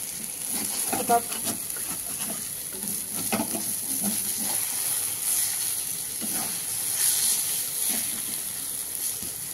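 Red amaranth leaves fry in oil as they are stirred, a steady soft sizzle and hiss with intermittent scraping and spatter bursts, close and moderately quiet, without voices.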